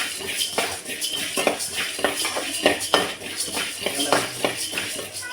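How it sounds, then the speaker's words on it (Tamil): Coriander seeds dry-roasted in an oil-free pan, stirred with a steady run of scraping, rattling and light metallic clinks close by. The irregular strokes continue throughout. "வரமல்லியை போட்டு கருக விடாமல் வறுத்துக்கணும்"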